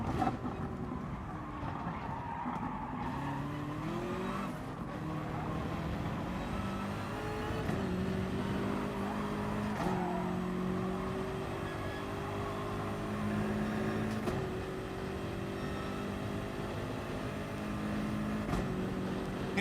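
A race car in the Gran Turismo Sport video game sends out a steady engine drone, its pitch rising and falling through the gears, with continuous tyre noise as it drifts, and no talking.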